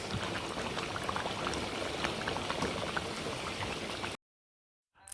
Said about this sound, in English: Just gonna leave it to cook slowly now. Let it boil.